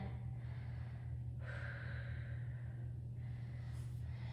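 A slow, soft breath drawn in during a yoga vinyasa flow, a quiet airy inhale rising and lingering for a couple of seconds, then another gentle breath starting near the end over a faint low hum.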